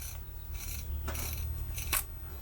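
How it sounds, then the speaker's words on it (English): The threaded head of an Olight Baton 4 Pro flashlight being unscrewed by hand: a few faint, short scraping rasps of metal threads turning, quiet and close, in a still room. "You can remove the battery in here if you absolutely need to by unscrewing the head"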